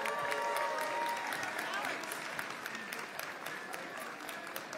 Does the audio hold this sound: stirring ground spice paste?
no